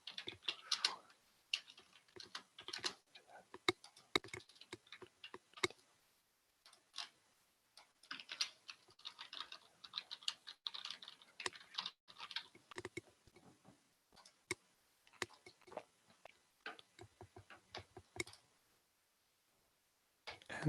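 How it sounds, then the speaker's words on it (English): Typing on a computer keyboard at a desk while editing quiz questions in online software, with quick irregular clacking bursts and brief pauses running throughout, close and fairly soft, no talking. "You can also type things outside of the green box. Oh, I should type that the other way."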